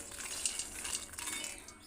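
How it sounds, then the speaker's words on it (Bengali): Peanuts dry-roasting in a pan on a gas stove, heard as a faint, airy rattle with light clinks and scrapes close by. "এদিকে দেখো আমি গ্যাসে এখন ছেলের বাদামগুলো ভাজছি"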